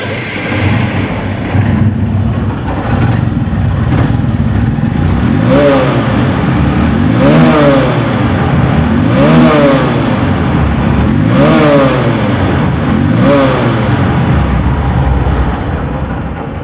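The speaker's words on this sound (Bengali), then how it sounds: "বাইকটা এখন সাউন্ড কোয়ালিটি শোনাবো" A second-hand Honda CB Trigger motorcycle in showroom condition idles steadily up close, then is revved repeatedly in a regular rhythm of rising and falling engine swells about every two seconds, loud and continuous with no talking.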